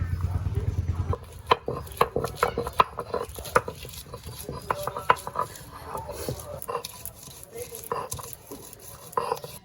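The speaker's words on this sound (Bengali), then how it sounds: "রসুন আর আদা বেটে নেব" Garlic and ginger are ground by hand on a flat grinding stone in a home kitchen. Close, rough scraping strokes repeat with sharp knocks over a low, steady background.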